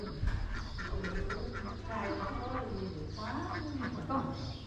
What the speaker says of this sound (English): All you can hear is them ducks running around.